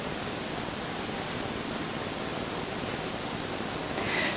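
Steady, loud hiss of a fry basket sizzling in hot oil, continuous and unbroken for several seconds, with no voices.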